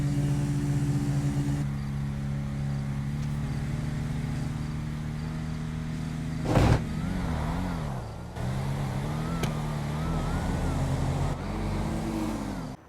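Street race cars in GTA V, including a Nova and a Tulip, drone with a steady engine note, then rev hard and accelerate in sharp pitch swoops through the middle and later part.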